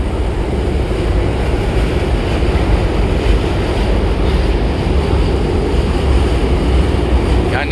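A light rail train rumbles past near the MacArthur Bridge over the Pasig River, a continuous loud roar of wheels and wind with no voices.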